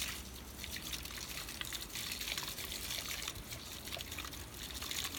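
A makeup brush dips and spins in soapy water inside a brush cleaner, giving a continuous wet, sloshing swish at close range with no voices.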